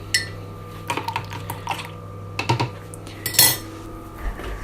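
Cutlery and pans clatter in a kitchen while hot milk is being made, a series of close metallic clinks and knocks in irregular bursts with a louder scrape near the end, no voices.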